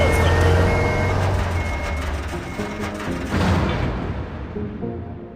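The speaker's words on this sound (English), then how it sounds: "Crap, they started the engine." A truck engine starts up in the UnMetal video game as a loud, low rumbling drone that settles into a steady idle, with a brief swell midway before fading toward the end.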